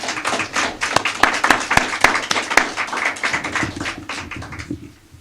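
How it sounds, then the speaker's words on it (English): A round of applause from a press conference audience, with scattered sharp claps building into steady clapping that thins out and fades after about four seconds. "Can you help me please give them a round of applause?"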